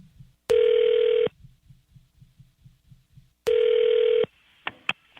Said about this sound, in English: let's get them on the phone